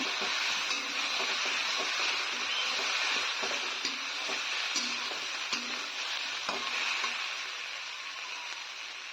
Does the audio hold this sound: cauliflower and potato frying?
yes